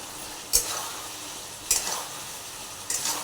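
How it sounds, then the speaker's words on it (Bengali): Taro pieces stirred and fried in spiced oil in a pan, a steady sizzle broken by three spaced scraping strokes of the spoon, close and fairly loud. "তারপরে একটু নেড়ে চেড়ে একটু কষিয়ে নিই"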